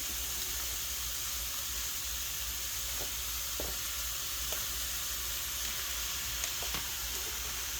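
Ground pork sizzles steadily in a frying pan with onions, a close, even hiss broken by a few light clicks and scrapes of stirring.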